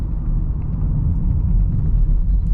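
A 2022 Land Rover Defender SE X-Dynamic riding over road bumps, heard from inside as a deep, steady low rumble of tyres and road noise with faint thumps, fairly loud and unbroken.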